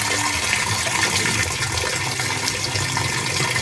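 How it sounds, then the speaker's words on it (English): Warm water gushes steadily into a Whirlpool direct drive washing machine as both inlet valves open at once, a loud continuous rushing fill with no break and no voices. "Let's get on to the warm water where both valves can open at the same time."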